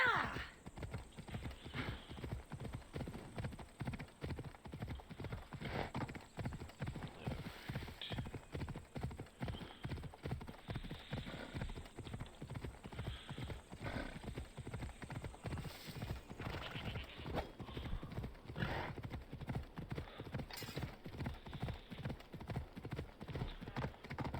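Steady, rapid clip-clop of horse hooves at a trotting rhythm in a video game runs throughout, close and even, with an occasional whinny and a faint background hum.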